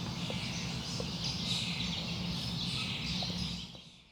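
Faint, dense chorus of blackbirds singing in the trees of a large regenerative farm in California, continuous distant chirping with no voices.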